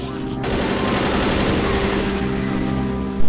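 Sustained rapid gunfire in the Left 4 Dead video game, loud continuous automatic bursts from close range, with a sharp jump in loudness at the very end.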